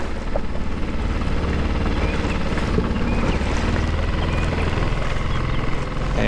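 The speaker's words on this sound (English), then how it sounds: "Yeah, it's a really windy day." Wind buffets a small boat driven by a Mercury 6hp outboard on choppy water, a loud continuous rush over the low engine drone, with no talking.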